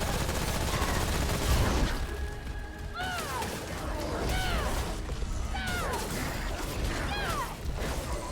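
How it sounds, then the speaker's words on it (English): Hunting rifle firing in Remnant: From the Ashes amid dense, noisy combat clatter, with cracking shots and sharp chirping effects repeating roughly every second, loud and close, no voices. "as long as I keep my distance, the hunting rifle's just gonna melt him"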